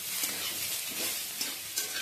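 Soybean chunks fry in a wok with a little salt, giving a dense, continuous close sizzle with light stirring scrapes; no voices are heard.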